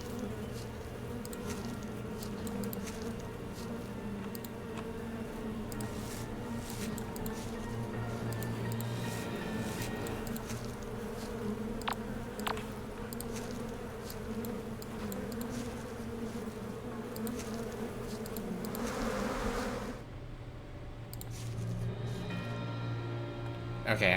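A dense insect swarm buzzes steadily and close in the horror dating game Sucker for Love: Date to Die For. The drone holds for about twenty seconds, then thins out and gives way to a changed ambience.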